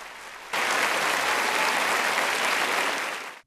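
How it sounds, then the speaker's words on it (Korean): Thunderous applause breaks out from an audience after a young Ukrainian girl finishes singing, starting abruptly, holding dense and loud, then cutting off at the end. "청중들은 우레 같은 박수로 격려를 보냅니다."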